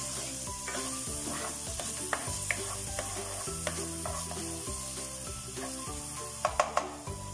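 Onion and chile frying in a pan, a soft steady sizzle broken by repeated stirring scrapes and a few sharp taps of a spoon near the end.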